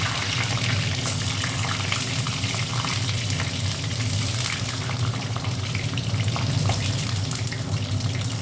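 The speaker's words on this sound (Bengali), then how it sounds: "এখানে দেখো বেগুনগুলো একটু ভেজে নিচ্ছি" Eggplant pieces frying in a pan for a spicy raw hilsa and eggplant curry give a steady, loud, dense sizzle with a watery hiss that runs unbroken throughout, no voices.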